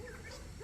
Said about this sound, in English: Yeah, I can't do this with dogs going crazy all the time.